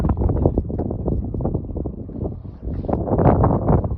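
Strong wind roars across the summit of Mount Wellington in Tasmania, buffeting the microphone in loud, rumbling gusts that swell and surge without a break.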